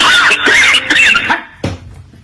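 A phone caller tune made of recorded coughing: several harsh, close cough bursts in quick succession, a short pause, then one more cough fading into quiet.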